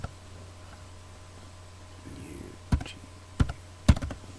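A computer keyboard is tapped a few times as a web address is typed, three or four sharp, close clicks spaced about half a second apart after a quiet stretch of faint room hum.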